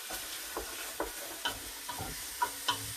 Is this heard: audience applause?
no